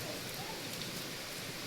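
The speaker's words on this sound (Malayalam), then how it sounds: "അടിപൊളിയായിട്ട് മഴയുണ്ട്" Steady rain falls in a broad, even hiss with no distinct drops standing out, moderately loud and continuous throughout, outdoors on a rainy day in Piravom.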